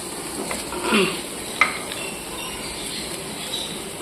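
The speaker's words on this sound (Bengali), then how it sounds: "শুকনো করে এটাকে টেনে নেব ভালো করে আর কি ভাজা ভাজা করে নেবো এটাকে" Lote fish heads being dry-fried in a pan give a steady low sizzle, with stirring scrapes and a few sharp utensil clinks against the pan, close by and with no talking.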